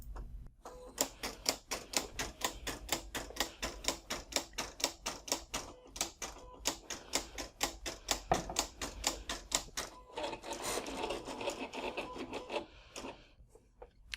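Silhouette CAMEO 3 cutting machine running a test cut on Siser EasyWeed heat transfer vinyl, a rapid series of sharp mechanical clicks and ticks in a steady rhythm, then a softer whirring stretch, close and fairly quiet.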